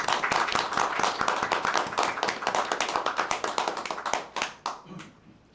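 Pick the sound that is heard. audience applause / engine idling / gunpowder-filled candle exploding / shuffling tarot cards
audience applause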